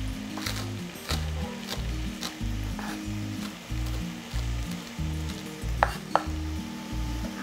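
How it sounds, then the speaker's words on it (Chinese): White scallion pieces stir-fried in a hot pan give a soft sizzle broken by a steady rhythm of scraping spatula strokes, with a couple of sharper clinks near the end. "然后这个白色的葱其实可以一起炒，把它炒香香的"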